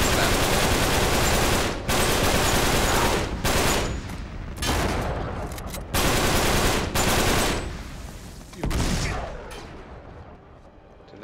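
Rapid automatic gunfire bursts in the video game Uncharted 3: Drake's Deception, loud and dense, in several long volleys broken by brief gaps, with a sand storm setting.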